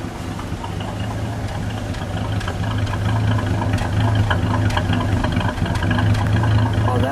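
A 1953 Nash Healey Roadster convertible idles steadily up close, a smooth, even engine rumble with a faint ticking rhythm, growing slightly louder partway through with no talk over it.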